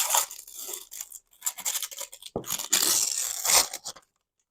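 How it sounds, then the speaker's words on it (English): The paper wrapper is ripped off an Azurite Sea Gadget Go Go Tomago trading card starter deck, with close, crackly tearing in several bursts and one long, loud rip near the end. "we're going to listen to the paper rip, because it's an amazing sound"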